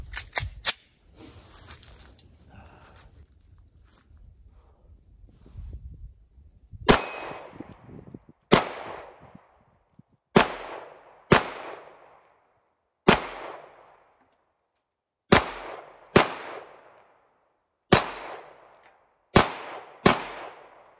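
Walther Creed pistol shots ringing off steel targets outdoors: about a dozen sharp reports spaced in pairs and singles, each followed by a metallic clang and decaying ring, after a stretch of low rumbling movement.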